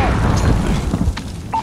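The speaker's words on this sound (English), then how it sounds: "I just threw my grenade back." A grenade explosion in Call of Duty: Modern Warfare, a loud low boom at the start that rumbles and fades over more than a second, with small clatters and a brief tone near the end.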